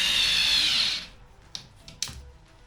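A small Ferrex mini electric screwdriver from Aldi whirs steadily at close range for about a second while removing screws, then stops, leaving a few faint clicks and taps.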